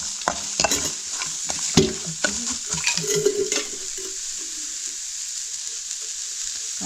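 Onion and garlic sizzle in hot oil in a pan over a wood-fired stove while prawns are being cooked, with steady frying hiss and several sharp stirring scrapes and clatters near the start.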